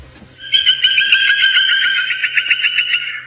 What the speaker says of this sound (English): That's a territorial call of the bearded woodpecker.